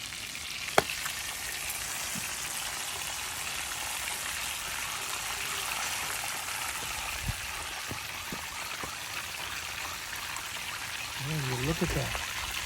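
Catfish frying in a pan over a rocket stove gives a steady, even sizzle throughout, with a few faint clicks and pops and a brief stir or scrape near the end.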